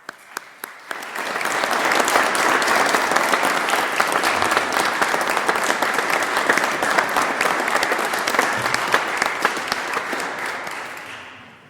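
A congregation at a church service in Strasbourg breaks into sustained applause, steady dense clapping that swells quickly, holds for several seconds, then tapers off at the end.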